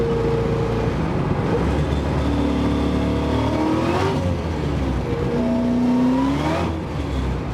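An LSA-swapped Camaro pulls on a wet road at light throttle, its engine drone rising and falling through the gears as tires hiss on wet pavement, steady and loud throughout with no talking.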